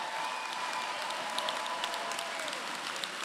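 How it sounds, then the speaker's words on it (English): Steady applause fills a graduation commencement hall for new doctoral degree recipients, a dense, even wash of clapping from a large crowd at moderate distance with no talk. "another round of applause for all of our newly minted doctoral degree recipients"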